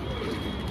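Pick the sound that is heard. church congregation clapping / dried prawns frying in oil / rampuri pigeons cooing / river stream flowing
rampuri pigeons cooing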